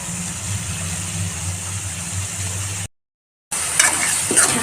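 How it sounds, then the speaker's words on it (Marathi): Tomatoes being mixed into chana usal cooking over a low flame, a steady low sizzling hiss cut by a brief dropout, then resuming with scraping stirs and small clinks. "त्याला पण छान असं मिक्स करून घेऊ आणि मंद आचेवरती शिजू देऊ."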